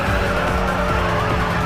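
A car drifts through a corner with the handbrake in a mobile racing game, tires squealing over a steady engine roar, loud and continuous with no talk.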